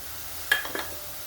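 A brief stirring scrape and soft sizzle as onion, tomato, red chili powder and turmeric sauté in a pan for dhaba-style masala bhindi, close and fairly quiet.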